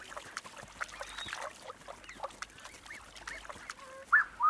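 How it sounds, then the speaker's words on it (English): Blue-winged geese in Ethiopian highland swampland give scattered soft honks and calls at a moderate distance, with a louder, nearer honk near the end over a faint outdoor background. "These blue-winged geese have young goslings, which are worth a hunting attempt."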